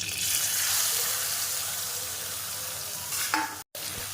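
Cinnamon, cardamom and grated raw mango fry in ghee with a dense, steady sizzle, briefly stirred near the end before a short cut of silence.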